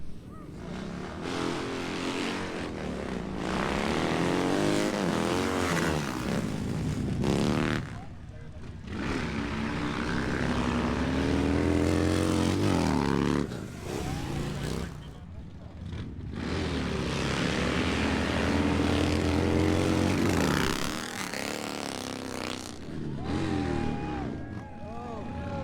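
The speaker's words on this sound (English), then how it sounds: "This is the modern bikes that they're going to be drag racing" Modern motorcycles drag racing at the Born Free Texas show, engines revving loudly in repeated high-pitched surges and passes, with crowd noise and talk mixed in throughout.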